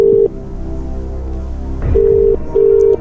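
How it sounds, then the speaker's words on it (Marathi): A telephone is dialed for a phone call in a comic quiz-show spoof: three clear, loud keypad beeps, with a brief clatter and low rumble between them. "टी जी को इस क्वेश्चन का आंसर पता नहीं है, तो आप कृपया करके उनके मित्र घंटी जी को फोन किया जाए"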